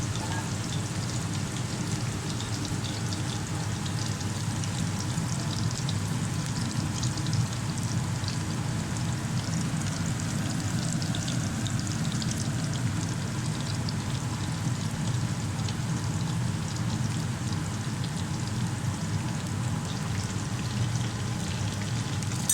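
Raw minced meat kebabs frying in oil give a steady, even, rain-like sizzle that runs unbroken throughout, close and moderately loud, with no voices.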